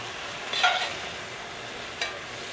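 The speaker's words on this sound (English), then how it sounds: "Now we're going to stir that up as soon as I find my spoon." Two faint, brief scraping strokes of a spoon stirring a pot of stew over a low background hiss.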